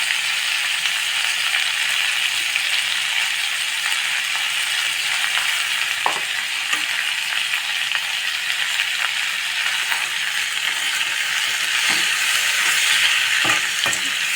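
Ingredients for sabudana idli sautéing in a pan, a steady hissing sizzle with scattered scrapes and clicks of stirring running close and even throughout.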